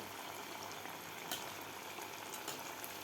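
Potato smileys fry in oil with a quiet, steady bubbling crackle, plus a few faint pops.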